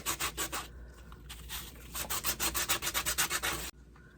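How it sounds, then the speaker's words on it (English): Sanding distresses black-painted wood pieces, a close, rhythmic rasping of quick back-and-forth strokes that pauses briefly before resuming and then stops abruptly. "But I'm just distressing every piece that I've painted black."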